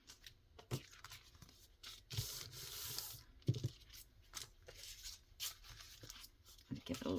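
Paper is rubbed and scuffed by hand while making fall-themed ephemera, giving soft, close, irregular scratchy strokes in short bursts with quiet pauses between them.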